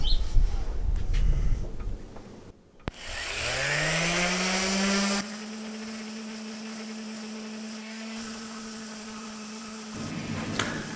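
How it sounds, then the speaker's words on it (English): A Black & Decker orbital sander with a Velcro disc whirs up to a steady high-pitched drone while lightly scuffing parts for a life-size alien build, loud and close, then drops slightly in pitch under load before scraping contact near the end. "I'm going to use a little orbital sander"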